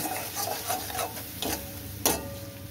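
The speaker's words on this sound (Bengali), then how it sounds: "জল দিয়ে এবার ভালো করে কষিয়ে নেব।" A spatula works a wet paste of ground cumin and coriander loosened with water in a pan, cooked down for moong dal with fish head. A few soft, close scraping strokes come at a steady pace, with one sharper scrape near the end and no talking.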